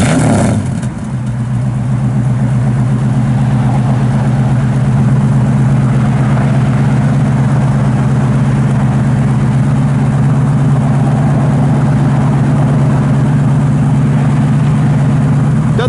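A 1954 Ford F100 short box truck with dual exhaust idles steadily and close by, a deep even rumble that continues throughout without revving.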